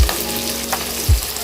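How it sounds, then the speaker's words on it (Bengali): Seeds frying lightly in a pan give a steady, soft sizzling hiss close by, broken by two dull low knocks as they are stirred, with no voices. "এখানে আমরা বীজটাকে ভেজে নিচ্ছি।"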